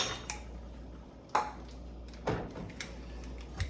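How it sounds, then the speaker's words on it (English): A spoon drops and clatters in a home kitchen where pear butter is being cooked, giving a few sharp metallic clinks and rattles spread over several seconds against a low steady hum. "I don't know how in the heck I cause that spoon to jump off"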